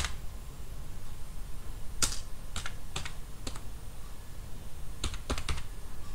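Typing on a computer keyboard while filling in a form, scattered clicky keystrokes in two short clusters over steady background hiss, no talking.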